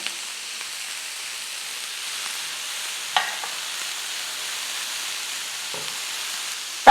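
Spoon stirring sliced green, red and yellow bell peppers in a pan, a soft steady sizzle with a few scraping strokes and a light knock near the end, close and alone.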